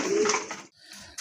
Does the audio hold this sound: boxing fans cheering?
no